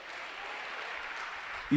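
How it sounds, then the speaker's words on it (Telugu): A church congregation claps together during a sermon, a dense and even burst of applause throughout, and a voice starts just at the end. "చప్పట్లు కొట్టండి ఒకసారి"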